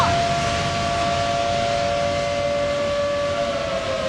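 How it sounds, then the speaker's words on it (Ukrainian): A civil defense siren holds a steady wailing tone in the distance, slowly sagging in pitch, over a rumbling noisy background. "Друзі, сирена! Почала гукати сирена."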